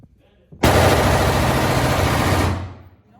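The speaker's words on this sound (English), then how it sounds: "Just a little belt-fed machine gun going off around you." A belt-fed machine gun fires a long sustained burst close by on a shooting range, a dense roaring rattle lasting about two seconds before cutting off and trailing away.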